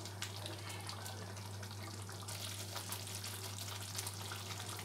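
Onion sabzi cooking in a pan on the stove, a steady close sizzle and frying hiss that continues evenly throughout, with a low constant hum underneath and no one talking.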